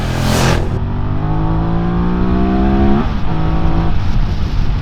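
QJ Motor motorcycle engine revving loud and close, rising in pitch then dropping sharply at a smooth gear change and climbing again, with strong steady engine drone throughout.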